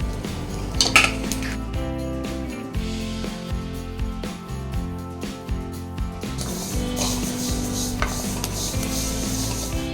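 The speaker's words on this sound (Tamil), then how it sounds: "இப்போ நம்ம இதை வறுத்து கொஞ்சம் கொஞ்சமாக வறுத்துக்கலாங்க" Sesame seeds roast in a pan, with repeated close scraping and rubbing of a spoon against metal and small clinks over a faint sizzle throughout.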